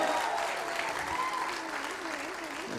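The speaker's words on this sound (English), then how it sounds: "Please give them a round of applause when you're ready." Audience applause at a wedding ceremony, a steady wash of clapping across the whole stretch with some voices and faint tones mixed in beneath.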